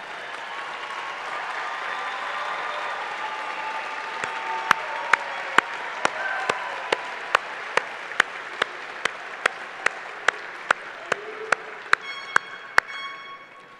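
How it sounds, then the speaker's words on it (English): Soft crowd applause at a graduate doctoral commencement ceremony, as graduates thank friends and family, fades under a series of sharp, evenly spaced individual claps standing out close by. "give them a big round of applause for all the support they've given you"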